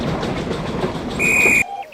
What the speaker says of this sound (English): Oh, that's my good whistle